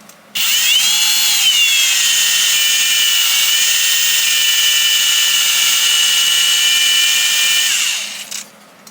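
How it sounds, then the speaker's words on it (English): A power drill whines steadily at high pitch for about eight seconds, close and loud, with slight pitch shifts as it bites through a board for a crosscut sled stop block, then winds down. "Mark my hole where it's got to be, punch the hole in it, drill it."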